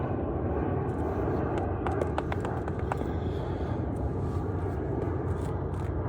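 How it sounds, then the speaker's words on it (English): An airplane passes overhead outdoors, a steady, loud broadband roar that stays constant throughout, with a few faint clicks near the middle. "there's a plane passing me."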